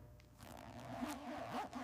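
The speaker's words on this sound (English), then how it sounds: "Smooth zipper operation is treated as mandatory," A zipper on a snake leather jacket slides in one smooth, close pull lasting under two seconds, a soft continuous ratcheting rasp with no voices.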